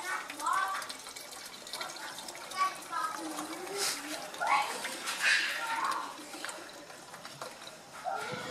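Water runs and trickles into the coolant reservoir of a Fiat Uno 1.4 EVO during a cooling-system flush, a steady gurgling pour with someone talking over it throughout.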